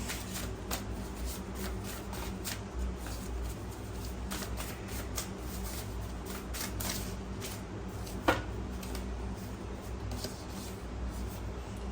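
Tarot cards being shuffled by hand in a steady run of soft papery riffles and flicks, with one sharper snap near the end, over a constant low background hum.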